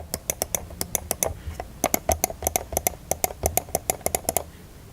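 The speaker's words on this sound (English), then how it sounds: "I will also give you some clicks of each mouse so you can hear the difference" A Logitech G100S gaming mouse being clicked close up, bursts of sharp, crisp clicks in quick irregular runs with short pauses between them, alone and fairly loud.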